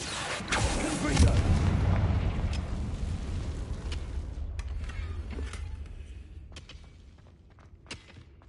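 A Confringo explosion spell in the Hogwarts video game bursts with a loud, deep rumbling boom that rolls on for a few seconds, then decays into crackling debris and scattered small impacts.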